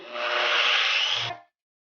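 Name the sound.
smearing detailing product on car surface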